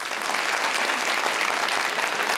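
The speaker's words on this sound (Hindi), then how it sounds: "पूरे हॉल में लोग तालियां बजा रहे थे" Steady, dense applause from an audience filling a hall, many hands clapping continuously at an even, moderately loud level with no pauses throughout.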